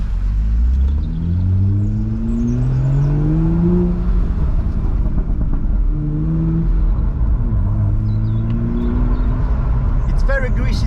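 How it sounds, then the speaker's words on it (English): A car fitted with a sport catalytic converter, driven normally in Sport Plus mode with the windows open, gives a steady loud engine drone that rises and falls in pitch with the revs, ending with a few sharp crackles. "I'm gonna open the windows now so you can hear it, how it pops in Sport Plus during just a normal driving."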